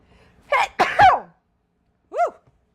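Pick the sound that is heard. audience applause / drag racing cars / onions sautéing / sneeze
sneeze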